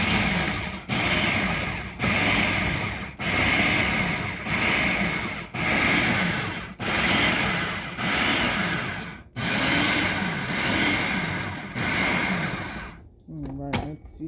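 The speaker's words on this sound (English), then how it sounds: "since I'm using the food processor, I just figured I will help this process go a little faster" A food processor pulses pecans in a home kitchen, loud motor bursts repeating roughly every second with brief gaps between, running steadily for about thirteen seconds before stopping.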